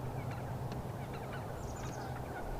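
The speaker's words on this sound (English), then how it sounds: "down there are wild turkeys, and they're kind of Christmassy" Several short, scattered wild turkey calls, gobbling and clucking, over a steady low outdoor rumble, fairly distant and faint.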